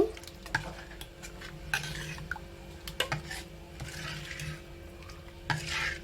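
Buttermilk curry with salt and coriander leaves being mixed in a pot, soft scraping strokes and light clinks of the spoon against the vessel, close but gentle and low in level.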